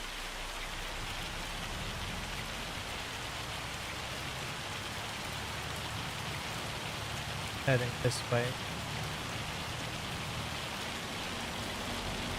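Steady rain falls throughout in the farming game Farming Simulator 25, a constant even hiss with a short burst of speech and a few faint tones about two-thirds of the way through.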